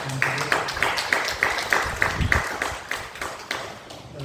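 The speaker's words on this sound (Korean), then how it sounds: "우리 박수로 축하하고 감사합니다." A church congregation claps in celebration, a steady run of sharp, evenly spaced hand claps rising over a busy room murmur, fairly close and loud for a few seconds.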